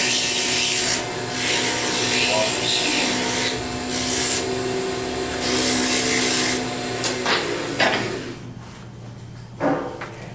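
Carved wood is sanded by hand with 60 grit abrasive: a loud, close, gritty rubbing that swells and fades in repeated strokes over a steady background hum, ending in a few lighter scrapes.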